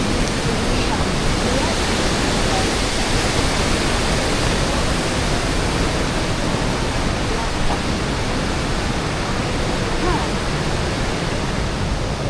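A Tennessee waterfall roars up close as a steady, dense wash of falling water, broadband and unbroken from start to end, with no other sound standing out above it.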